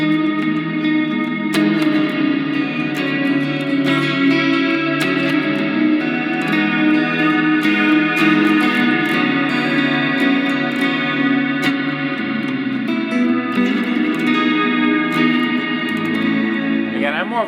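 An electric guitar through a Sonicake AmpCube practice amp preset plays sustained, chiming chords, washed in reverb and chorus, loud and continuous throughout.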